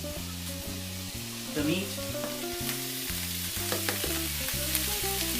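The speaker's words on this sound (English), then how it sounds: "So here goes the mushrooms. Just toss them in." Mushrooms and precooked meat tossed into a hot frying pan with zucchini, giving a loud continuous sizzle and stirring scrapes, close up, while a voice speaks briefly.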